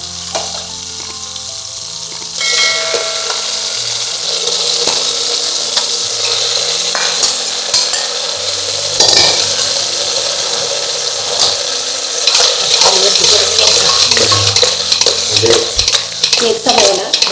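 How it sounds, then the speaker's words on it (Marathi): Mutton pieces rubbed with turmeric and salt sizzle loudly in a mix of rendered fat and oil, with steady spoon stirring and scraping against the pot throughout, growing busier toward the end. "आता आपण मटण टाकून घेऊ त्या चरबीच्या आणि तेलाच्या कॉम्बिनेशनमध्ये"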